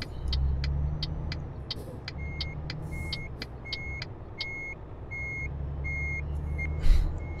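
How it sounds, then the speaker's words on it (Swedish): A truck's reversing alarm beeps in a steady, evenly spaced series over a low rumbling engine idle, in the video game Euro Truck Simulator 2 multiplayer. "Till exempel backljuden och grejer, de hör man lite överallt."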